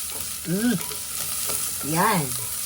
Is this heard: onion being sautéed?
yes